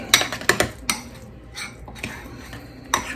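A spoon stirs a cauliflower mash mixture in a pan, with sharp metal clinks and scrapes against the pan at uneven intervals over a low, quiet background.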